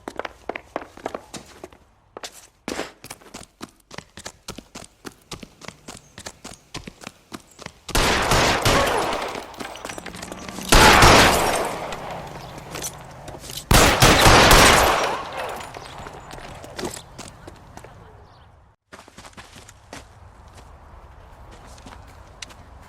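Gunfire rings out in the L.A. Noire video game: quick rhythmic shots come first, then several long, loud bursts of sustained fire. A quieter stretch of ambience closes the scene.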